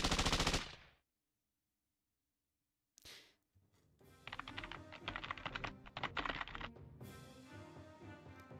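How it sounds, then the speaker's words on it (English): Computer keyboard typing heard in a Pocket Mirror game scene: a loud burst opens, silence follows, then a dense, rapid clatter of keys runs steadily over background game sound, close and prominent. "Was that keyboard typing noise?"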